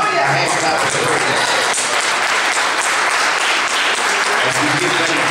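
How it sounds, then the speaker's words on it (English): A church congregation at a Father's Day service breaks into loud, sustained clapping and applause in praise, a dense wash of hands filling the room alongside voices and cheering. "Give God a hand clap of praise."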